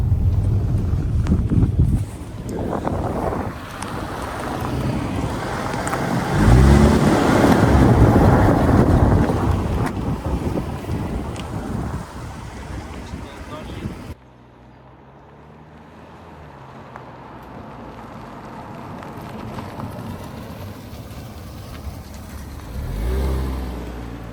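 A Mazda 6 drives along with a loud engine drone and heavy wind buffeting that swells as it speeds up, then gives way to a quieter cabin hum.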